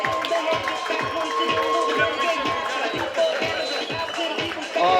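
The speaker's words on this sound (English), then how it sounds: "Ladies and gentlemen, big round of applause for our fighters in the ring." A boxing crowd at a university fight night applauds and cheers the fighters in the ring, a dense steady roar of clapping and voices with rhythmic pulses throughout.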